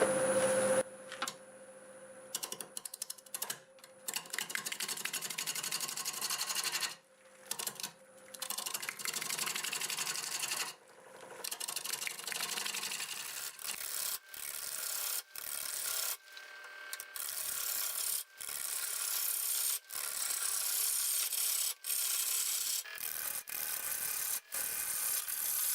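Black walnut spinning on a lathe at 780 RPM as a freshly sharpened 5/8 bowl gouge cuts it, giving a continuous hissing, rasping shear broken by brief gaps, close and steady.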